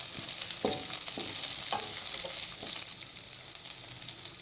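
Green chilies frying with small shallots in hot oil for hotel-style sambar, a steady close sizzle with a few stirring scrapes of a spoon against the pan.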